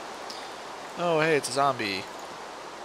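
Rain falls steadily in the video game Minecraft, a constant soft hiss throughout, briefly overlapped by someone speaking.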